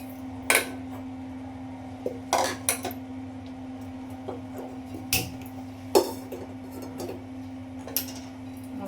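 A cooking pot is set down and handled while making homemade vegetable sambar, giving scattered sharp metallic clanks and knocks over a steady background hum.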